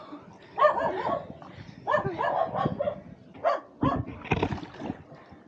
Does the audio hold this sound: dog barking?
yes